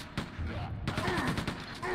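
Bursts of gunfire in the shooter Quake II come as several loud, thumping shots, with a voice heard among them.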